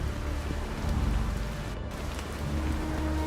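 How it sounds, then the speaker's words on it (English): Strong, gusty desert wind at the King of the Hammers off-road race buffets the microphone in a continuous low roar, with brief faint voices underneath. "Aw, it's raining."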